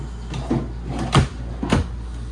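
Kitchen drawers in a 2024 Cruiser RV Essence E-28DB bunkhouse fifth wheel slide and bump shut three times in quick succession, close and fairly loud, with no talking.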